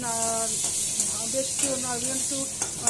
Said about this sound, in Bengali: আলুটাকে একটু ভাজছি।